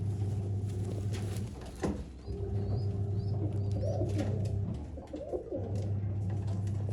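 Collection pigeons kept for sale in Bangalore cooing softly in a loft, several low throaty coos repeating steadily at close range, with faint chirps and a brief knock partway through.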